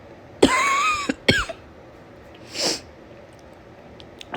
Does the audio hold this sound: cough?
yes